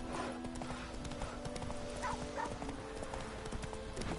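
Galloping horse hooves in The Witcher 3 beat in a fast, steady clip-clop rhythm, close and continuous, with a brief whinny in the middle.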